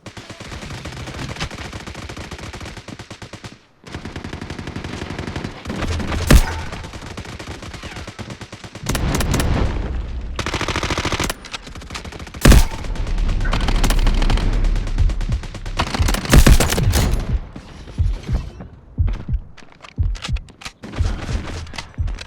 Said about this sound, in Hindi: देखा गोली पड़ रहा है